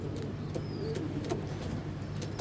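A large racer pigeon gives low, repeated cooing calls close by, with faint traffic noise in the background and no talking.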